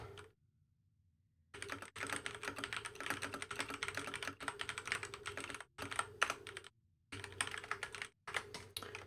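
Rapid clattering keystrokes on a computer keyboard during a World of Warcraft session, in dense bursts broken by several short pauses, close and fairly loud with no voices.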